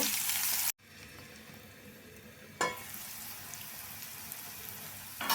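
Beans and carrots sautéing in oil for vegetable semiya give a steady broadband sizzle, interrupted by a brief drop near the start and a sharp clatter midway, with no talking.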